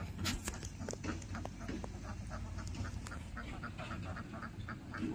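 A flock of ducks on cold water quacks in quick, repeated calls, moderately close and fairly busy throughout, over a constant outdoor background hiss.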